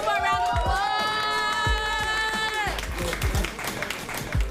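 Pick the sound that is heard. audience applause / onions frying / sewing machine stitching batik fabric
audience applause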